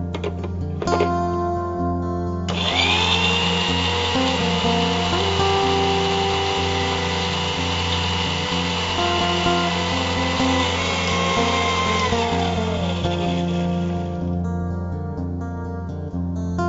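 A mixer grinder grinds grated coconut with a few shallots and water, its motor whirring loud and steady for roughly eleven seconds before winding down, with faint background music throughout.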